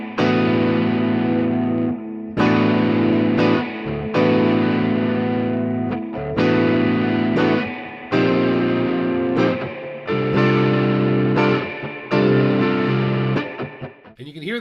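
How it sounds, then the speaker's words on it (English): Electric guitar recorded in Logic through flanger and chorus effects rings out in loud, sustained chords that change about every two seconds, each swelling with a swirling, shimmering modulation. "I've got flanger on one of them, and I've got chorus on the other one"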